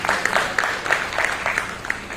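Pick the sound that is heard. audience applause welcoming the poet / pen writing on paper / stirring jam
audience applause welcoming the poet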